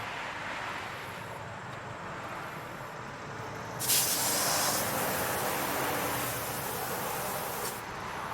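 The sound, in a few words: rinsing a car floor mat with water spray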